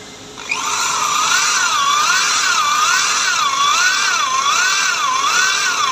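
A power drill bores an 8 mm hole in a workshop while a self-drilling screw is being made, giving a steady high whine that wobbles regularly in pitch as it cuts. The sound starts abruptly and carries on loud and close, with no speech.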